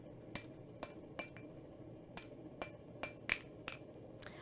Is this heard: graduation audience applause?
no